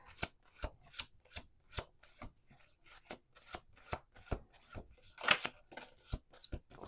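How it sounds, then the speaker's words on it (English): Quiet, crisp tarot card shuffling: a steady run of sharp riffling bursts spaced about every half second, with no talking. "Okay, 2 more shuffles"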